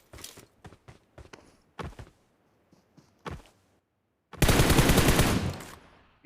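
Gunfire in the mobile battle-royale game PUBG Mobile: a scattered string of sharp single shots and short bursts, then a sustained loud automatic volley near the end, with no talk.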